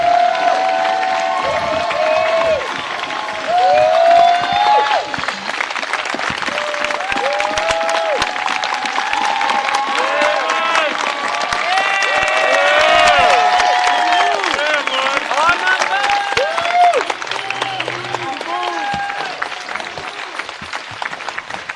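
An indoor audience claps at length, a dense, steady wash of applause with scattered cheers and whoops that holds for the full stretch and swells slightly midway.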